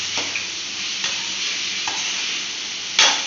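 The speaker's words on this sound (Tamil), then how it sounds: "தக்காளி சேர்த்து நல்லா ஒரு கிளறி விட்டு" Tomatoes stirred and frying in a pan for fish curry, a steady close sizzle with a few sharp spoon scrapes against the pan, no talking.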